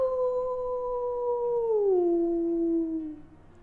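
A voice imitates a werewolf howling at the moon, one long sustained howl that slides downward in pitch and fades at the end, heard alone and close.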